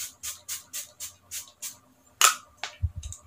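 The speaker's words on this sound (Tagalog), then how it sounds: "So ispray lang natin siya." Lux Organic Rose Water Glow Mist sprayed onto a made-up face as a setting mist: seven short, even hissing pumps in a steady rhythm, then a sharper burst and a couple of softer sprays with low bumps, close and clear with no talk.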